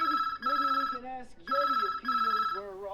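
A telephone rings with a bright electronic trill in two repeated bursts separated by short pauses, close and clear, while a voice talks underneath.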